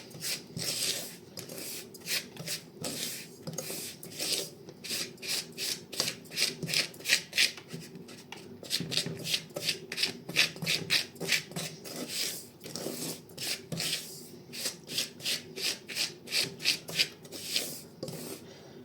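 Repeated scraping and rubbing strokes in a quick, uneven rhythm, close by, as a spoon stirs sugar and cocoa powder together in a saucepan; no voices.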